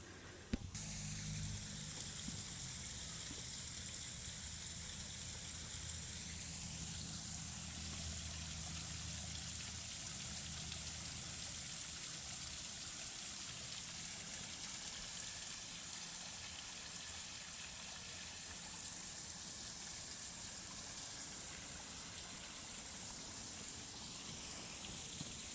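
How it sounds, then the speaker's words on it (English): A backyard waterfall pours steadily, a continuous close rushing splash of falling water that holds an even level throughout with no talking. "Got us a little intermission with the waterfall."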